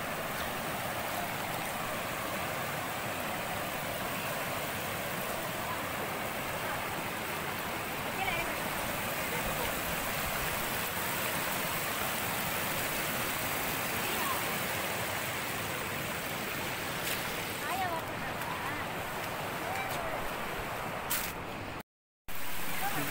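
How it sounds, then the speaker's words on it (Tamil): Water rushing strongly down a stream beside a Sri Lakshmi Narasimha temple at Singiri near Vellore, a loud, continuous broadband roar close by that barely varies, with a brief dropout near the end. "கீழே பார்த்தீங்களா தண்ணி எப்படி போகுது"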